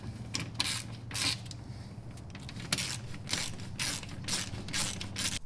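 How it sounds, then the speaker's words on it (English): Ratchet clicks rapidly in repeated bursts while tightening fasteners on a C6 Corvette set up for drifting, a close, loud mechanical ratcheting with brief pauses between strokes. "and go ahead and tighten everything up."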